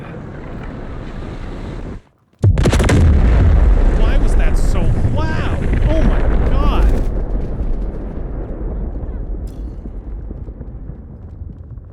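A missile explodes in the video game Delta Force: after a brief moment of silence, a sudden loud, close blast erupts and leaves a long rumbling roar. Voices talk through the noise.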